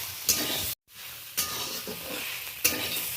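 A spatula stirs a potato and greens vegetable curry with thankuni leaves in a pan. Close, soft scraping and sizzling come in several strokes, with a brief silent gap after the first and sharper scrapes marking each new stir.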